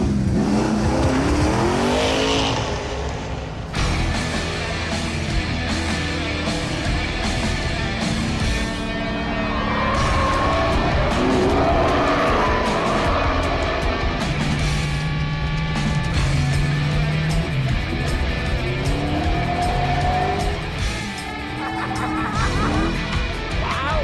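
A chrome-wrapped 1978 Ford Fairmont drives on a race track, its engine revving loudly and continuously up and down with shifting pitch, and tires squealing now and then.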